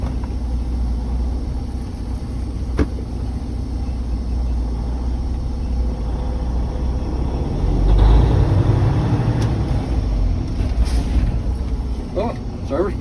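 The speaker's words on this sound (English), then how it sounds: "I'm going to apply my brake and see if it works." A Class A truck rolls slowly and then brakes during a service brake test, a low steady engine rumble swelling briefly as it stops, with wind noise throughout.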